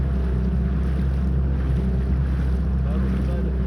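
Sea Pro outboard motor on a Skat boat running at low revs on a river, a steady low drone with wind and water noise throughout.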